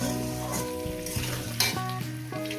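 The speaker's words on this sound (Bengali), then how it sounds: "এটাকে আমি সাত মিনিট ধরে আলুটাকে ভেজে নেব" Salted potatoes frying in a pan, a steady close sizzle with occasional stirring scrapes, with no talking.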